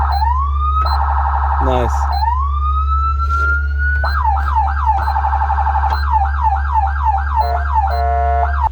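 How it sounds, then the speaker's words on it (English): A Las Vegas Metro Ford Crown Victoria police siren runs through several modes: a rising wail, rapid yelp cycles and a fast warble over a steady low idle hum, loud and close, with a brief spoken word. "turn it on so we could charge up the battery and test out the siren"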